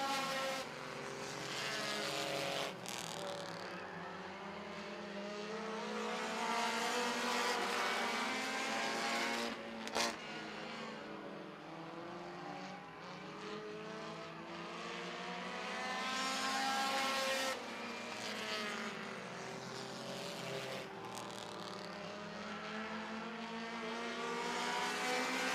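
Race cars roar around an oval track during a heat race, a continuous loud engine drone that swells and fades as the pack passes, with no talk over it.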